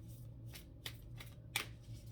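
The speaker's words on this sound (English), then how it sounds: "these cards are so big, sometimes they're hard to shuffle" Large tarot cards being shuffled by hand, a few separate riffling bursts with soft pauses between, close and fairly quiet over a low background hum.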